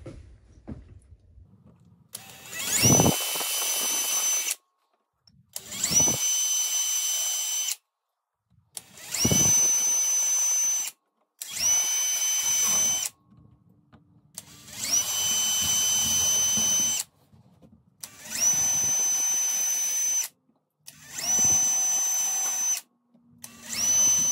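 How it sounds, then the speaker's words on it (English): A power drill bores holes in a modern house number plaque, running in eight separate bursts of a few seconds each with short silent pauses between them, close and loud and with no talking. "Now that I've got all the holes drilled"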